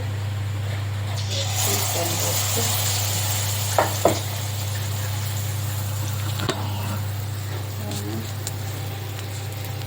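Wheat flour appam frying in a little oil in a pan, a steady close sizzle under a constant low hum, with a few sharp clinks of utensils.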